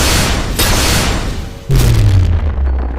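A fired dimensional arrow bursts with a loud, sudden boom that swells into a heavy low rumble, following a rushing, noisy buildup.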